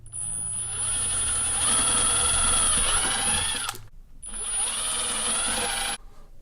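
A power drill whirs loud and steady for nearly four seconds while drilling a 5-gallon plastic bucket, stops briefly, then spins up again for another long burst.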